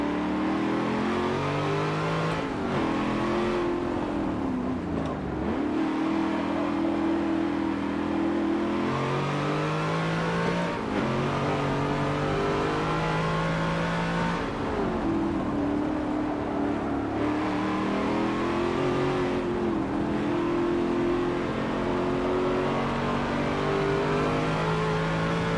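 A 650 horsepower race car engine in Forza Motorsport 7 roars steadily and loudly, rising in pitch through each gear before dropping on the shifts, several times over, with no talk.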